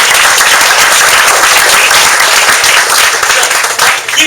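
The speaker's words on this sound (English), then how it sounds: "Keep clapping for the waitresses" A crowd at a Successful Thinkers launch event in a Shari's restaurant in San Bruno keeps up loud, sustained applause, close and continuous, tapering near the end.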